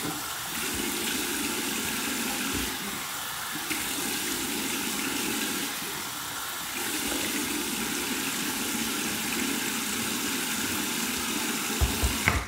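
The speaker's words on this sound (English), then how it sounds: "I'm just going to use my hands and just douse my head with a little bit of cold water to close my pores." Cold tap water runs steadily into a sink while being splashed over a freshly shaved head, a continuous close rushing and splattering for several seconds with no talking.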